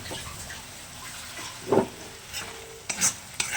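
Prawns with ginger garlic paste being stirred in a pan, a soft sizzle under a few distinct spatula scrapes and knocks, with a sharper clatter near the end.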